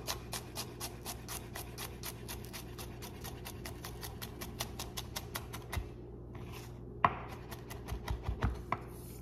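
A knife finely chops onion into brunoise on a board, quick even taps in a fast steady rhythm that briefly break off before resuming, close and crisp with no talking.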